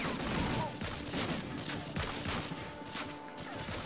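Dense, crackling gunfire from snipers and other weapons in the World War II shooter Medal of Honor Frontline, with rapid overlapping shots and impacts forming a continuous noisy barrage throughout.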